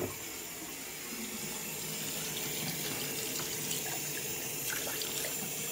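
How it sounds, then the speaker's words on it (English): A tap runs steadily, a soft continuous hiss of flowing water with faint splashes, fairly quiet and alone. "Turn on the water."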